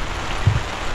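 Rain falling outdoors during a riverside catch-and-cook outing as the sky darkens: a steady, soft wash of drops with a brief low thump partway through, no voices.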